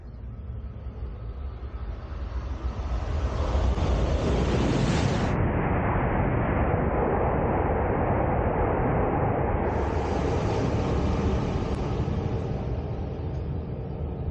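A Tohoku Shinkansen Hayabusa and Komachi train set rushes past at high speed, a loud sustained roar building up over several seconds and holding steady at close range.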